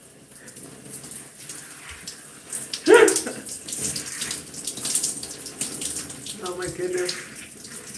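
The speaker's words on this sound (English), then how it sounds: "Just want to make sure I rinse out all the conditioner." Running water splashes steadily while conditioner is rinsed out of hair, a close, continuous pour with shifting splatter; a voice speaks briefly over it.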